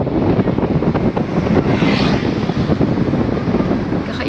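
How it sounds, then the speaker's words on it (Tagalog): Airplanes pass near an airport in Nepal, a loud continuous roar of aircraft engines mixed with wind buffeting on the microphone, with no voices. "Tingnan yung mga eroplano."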